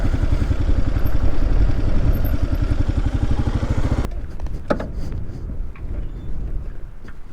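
A Kawasaki KLR 650 single-cylinder motorcycle engine runs with a loud, steady, rapid thumping close by, then cuts off abruptly halfway, leaving quieter outdoor sounds and handling noises.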